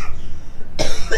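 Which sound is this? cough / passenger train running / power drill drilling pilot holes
cough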